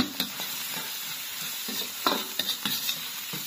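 Scallion, ginger and garlic stir-fried in a wok, with a close, steady sizzle broken by a series of sharp scraping clicks from a stirring utensil.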